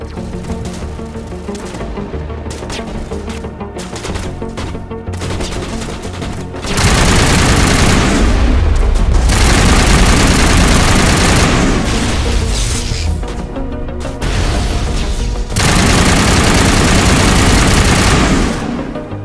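Heavy battle crossfire from automatic weapons and booming blasts in a Mass Effect sci-fi battle, loud and dense, with sparser shots at first swelling into sustained roaring barrages.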